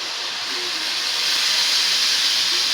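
Water poured into a hot pan of toasted rice for a village-style fried rice sets off a loud, sustained hiss of steam that swells slightly and holds steady throughout, with no talk over it.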